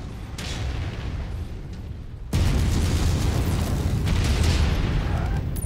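Heavy AC/20 autocannon rapid fire from a mech in MechWarrior 5 during a Solaris arena match, a dense booming barrage with explosive impacts that suddenly swells louder midway and keeps pounding to the end.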